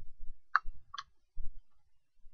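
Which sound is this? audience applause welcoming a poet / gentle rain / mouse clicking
mouse clicking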